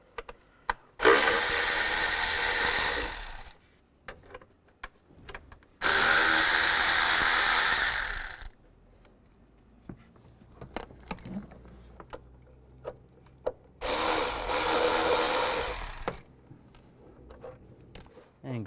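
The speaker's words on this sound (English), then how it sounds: "Using a 6mm hex bit or an Allen bit, you want to take off these screws right here" Power drill with a 6mm hex bit backing out engine cover screws on a 2003-2010 BMW X3, three loud close whirring bursts of a few seconds each separated by quiet pauses with small handling clicks.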